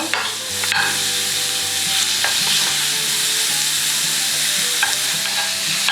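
Minced garlic, chopped scallion and sliced onion stir-fry in oil for a cabbage stir-fry, a loud, steady sizzle with spatula scrapes and taps against the pan, close up and with no talk.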